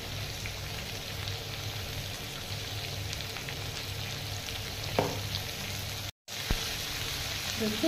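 Cauliflower florets seasoned with turmeric and salt fry in a pan with a steady, soft crackling sizzle, broken by a couple of light stirring knocks and a brief dropout.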